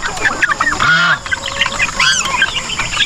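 Loud, busy poultry noise up close on a farm: overlapping clucks from chickens and honking calls from turkeys, with no talking.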